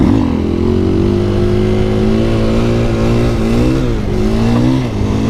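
A 2020 KTM 500 EXC-F dirt bike engine drones steadily nearby, its pitch rising and dipping slightly as the throttle shifts, with no voices.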